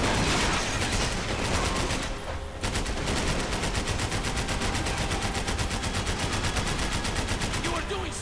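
Rapid gunfire fills a Max Payne 3 scene where the ceiling is being shot up, a loud, steady stream of automatic shots with a brief dip in the middle before the barrage resumes.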